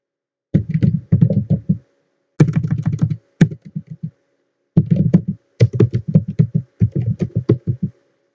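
Keys clatter on a computer keyboard in short quick bursts separated by brief pauses, close and clear with no talking, ending on single firm keypresses.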